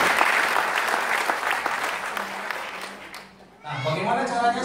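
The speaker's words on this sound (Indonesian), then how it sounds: "Tepuk tangan dulu untuk Kelly." A crowd at a K-Link marketing plan seminar bursts into sustained applause, dense and loud, fading briefly before a voice comes in near the end.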